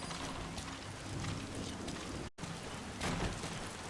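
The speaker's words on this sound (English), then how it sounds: "Sound of rainfall should help to mask your footsteps." Steady rainfall in the stealth game Metal Gear Solid V: The Phantom Pain, a dense continuous hiss of falling rain with a brief dropout partway and a slight swell near the end, with no talking.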